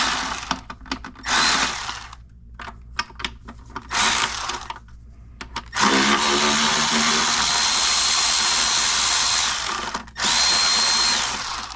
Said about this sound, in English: Now we're gonna remove our intake manifold bolts.